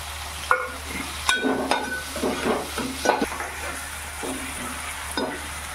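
Tomato with garlic-ginger paste sizzles in a hot pan while a spoon stirs it, giving a steady frying hiss with repeated scraping strokes and soft clinks that come in uneven bursts, close and clear.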